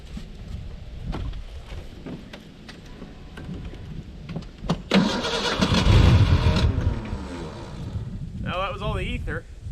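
Abandoned Ford Ranger pickup cranking on ether in the woods without catching, a grinding, churning run that swells loudest mid-clip before a voice and a squeal near the end.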